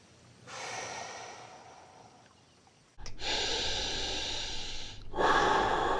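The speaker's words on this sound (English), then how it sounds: "taking deep breaths, just deep, slow breaths" Deep, slow breaths, each a long audible inhale or exhale, come close and alone with no talking.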